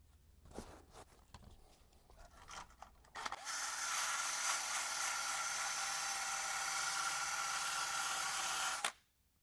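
Abrasive disc on a power tool sanding rust off a Toyota 4Runner, a few seconds of handling knocks, then a loud continuous whirring grind that cuts off abruptly near the end.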